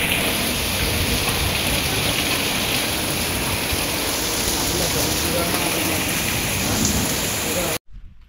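Heavy rain driven by wind pours down steadily in a dense, loud roar over a Konkan village and its rice fields, unbroken until it cuts off abruptly just before the end.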